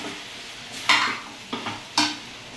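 Raw plantain sautéing in a pan, with three distinct scraping stirs of a spatula over a soft background sizzle, close and fairly loud, no talk.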